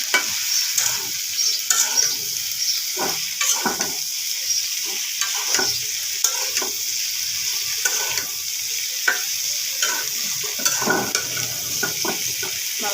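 Okra frying in a pot, stirred steadily with a constant bright sizzle and repeated scraping clicks of the utensil against the metal, close and moderately loud, with no talking.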